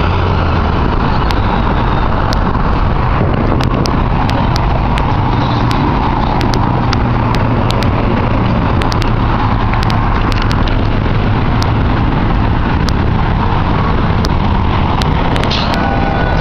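Loud, constant rumble of cars and trucks passing on a road beside a public sidewalk, dense traffic noise close by with sharp clicks and knocks scattered throughout.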